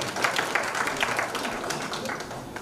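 Crowd applause at an annual general meeting of a university convocation, a dense steady patter of many hands clapping throughout, moderately loud and continuous with no clear break.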